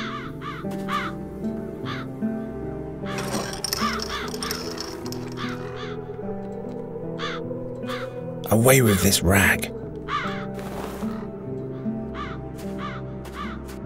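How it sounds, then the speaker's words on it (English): Crows caw repeatedly in the video game The Dark Eye: Chains of Satinav, sharp rhythmic calls over a droning music bed, with a character speaking and a loud burst of noise partway through. "The crows haven't left anything of the town's banner."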